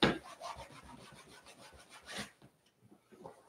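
A leather edge is rubbed back and forth with a burnishing tool after saddle soap and wax, giving quick rhythmic scraping strokes, close and fairly soft, that stop after about two seconds.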